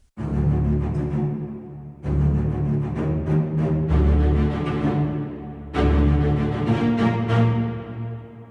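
Low string section of basses, cellos and violas playing sustained chords together in three swelling phrases, full and resonant, with no voices.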